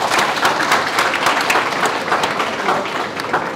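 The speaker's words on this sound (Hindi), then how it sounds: "एक बार जोरदार ताली बजाओ जरा।" An audience at a university expert talk on entrepreneurial mindset claps loudly and steadily for a few seconds, a dense, even burst of applause filling the room.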